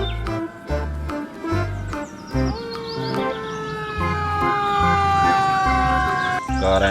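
Toy fire ladder truck siren wailing in rising and falling electronic tones, close and fairly loud, with brief gaps and pulsing low thumps underneath, no speech.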